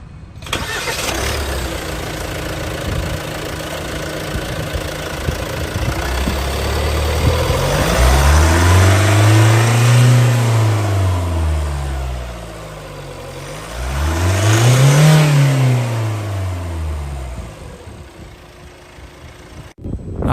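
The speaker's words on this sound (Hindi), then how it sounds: "आइए अब डीजल इंजन की साउंड सुनते हैं।" A 2022 Hyundai Tucson Signature 4WD with a Smart Stream diesel engine cranks and starts, settles into a close, loud idle, then is revved twice with rising and falling sweeps before dropping back to idle.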